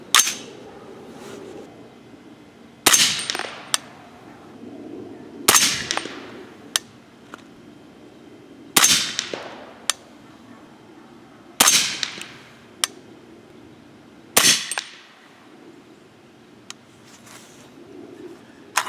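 A 300 Blackout carbine on carbine-length gas fires 208-grain Hornady match BTHP handloads with IMR 4198 powder, seven loud sharp shots spaced a few seconds apart, each with a short ringing decay, outdoors.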